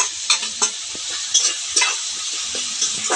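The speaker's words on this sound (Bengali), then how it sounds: "টমেটো কুচিটা দিয়ে নাড়াচাড়া করব" Chopped tomato and ginger, coriander and onion pastes are stirred in a hot pan, with a steady sizzle and scraping spatula strokes coming close and clear at an irregular pace.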